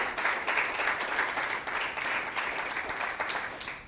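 A church congregation applauding during a sermon, a moderate burst of mixed clapping with uneven swells, sustained for several seconds in a reverberant room.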